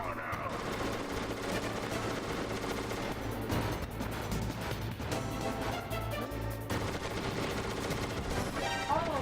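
Continuous, dense gunfire in the video game Metal Gear Solid, loud and busy throughout under layered game sounds and music, with no voices.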